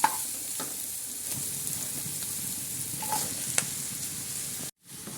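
Mango and carrot pickle frying in a pan, stirred steadily with a spoon: a continuous close sizzle with light scraping strokes, ending in a brief silence.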